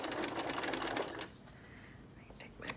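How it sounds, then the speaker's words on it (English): A sewing machine stitches across a leather or vinyl seam on a boxed dining chair seat cover, a dense, close, steady mechanical whir for about a second before it stops, followed by quieter handling noises. "now I am going to squeeze that under my machine and sew across there"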